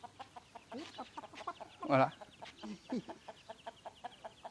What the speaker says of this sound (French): ça c'est nos poules.